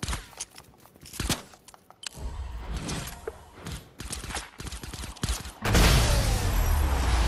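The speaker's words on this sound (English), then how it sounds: "I'm just shooting everything." Gunfire in the Fortnite video game: bursts of rapid shots and scattered single cracks, some close and loud, others fainter, followed by a dense, noisy stretch near the end.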